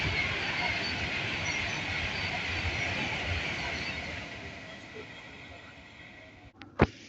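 A Class 390 train runs through Bletchley station on the West Coast Main Line, a loud, steady roar of wheels and passing carriages that slowly fades, ending with a couple of sharp clanks.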